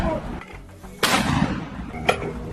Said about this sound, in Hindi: हमास का एक लड़ाका मशीन गन से हेलीकॉप्टर पर फायरिंग शुरू कर देता है